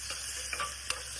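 Raisins frying in a small pan of hot fat, a soft continuous sizzle with a few light stirring clicks, close and quiet, no voices.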